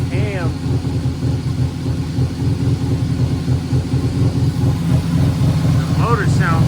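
An Infiniti G37 engine runs steadily up close, a continuous low rumble throughout with a speaking voice over it.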